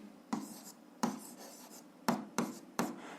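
Close pen strokes on paper while an algebra equation is written out, heard as five short, distinct scratching taps spaced irregularly over about three seconds.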